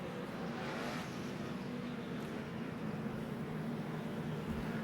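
Race cars circling the Richmond short track during a 2010 NASCAR Nationwide Series race, a steady loud engine drone with cars passing nearby and no speech.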